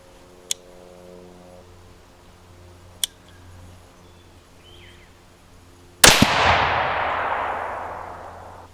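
A single loud rifle shot from a 22 Creedmoor firing a reloaded 77 grain bullet, a sharp close crack trailing into a long decaying echo, preceded by a couple of faint clicks and quiet ambience.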